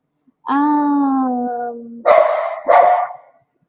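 A dog indoors gives a drawn-out whining yelp followed by two short, loud barks, close by and alone.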